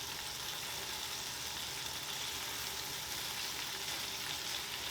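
Smashburgers sizzle on a Blackstone E-Series 17-inch tabletop electric griddle just after being flipped, a steady, even frying hiss that holds unbroken and close with no talking.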